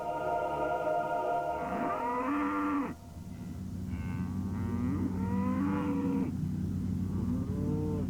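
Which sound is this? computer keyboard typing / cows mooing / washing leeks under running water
cows mooing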